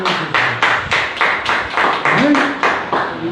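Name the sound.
congregation clapping loudly in church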